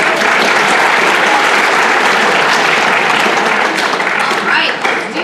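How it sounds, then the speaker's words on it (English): Loud, sustained applause from a large crowd at a school academic awards ceremony fills the whole stretch, steady clapping that only thins slightly near the end. "just give yourself a round of applause"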